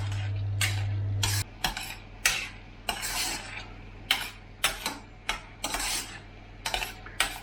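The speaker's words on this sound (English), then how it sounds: "I'm just going to keep stirring it for a couple more minutes until the liquid's gone." Metal spoon stirring an onion mixture in a pan over heat, scraping and clinking in a steady run of sharp strokes, close and clear, with a faint low hum at the start.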